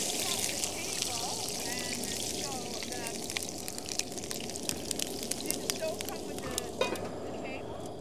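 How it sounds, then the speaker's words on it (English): Hash browns sizzle in oil in a pan on a Coleman camp stove, a dense, steady hiss and crackle with small pops that runs the whole time at moderate loudness. "I'm just going to throw it into all my hash browns. And you hear it sizzling there,"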